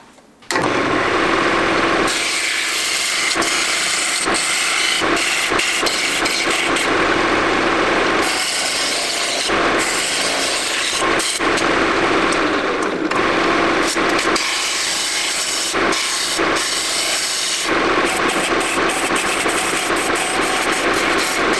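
A lathe turns a pine bowl while the tool scrapes and cuts in long rasping passes, loud and close over a steady motor whine, with brief pauses between cuts.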